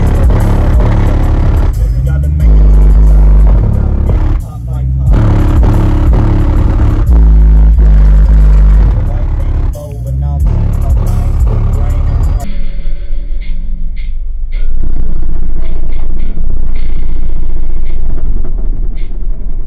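Two Skar SDR 18-inch subwoofers in a custom-built car box pound out heavy, booming bass with music, loud and continuous, with rattling strikes through the track before the sound thins out near the end.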